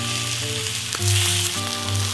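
Pork front leg sizzling and frying in a pan for pork kimchi stew, a steady loud crackle that swells in bursts, heard close with no talking.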